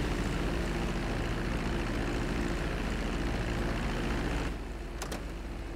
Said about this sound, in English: taxi the plane into the hangar.